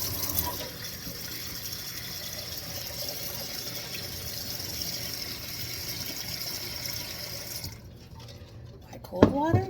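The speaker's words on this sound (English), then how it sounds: "fill a pot with cold water." A pot being filled with cold water from a kitchen tap, a steady running-water rush for about eight seconds that then stops, followed by a brief clatter near the end.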